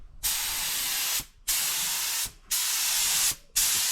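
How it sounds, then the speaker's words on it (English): A spray gun applies misty coats of paint to a fibreglass front bumper for a 1992 Nissan 300ZX twin turbo, producing four loud bursts of hissing spray separated by short pauses. "Now ready to spray."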